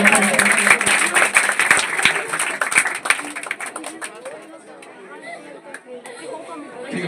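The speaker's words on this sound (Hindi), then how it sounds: "ठीक है, फिर से ताली दे दीजिए" An audience at a board exam toppers result event applauds with a burst of scattered claps and chatter that thins out over a few seconds, giving way to talk.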